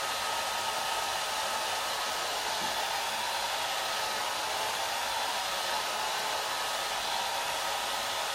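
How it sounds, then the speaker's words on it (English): A hair dryer blows steadily on chalk paste on a wreath craft project, a loud, constant whooshing hiss that stays even throughout with no talking. "With a hairdryer, this takes 30 seconds"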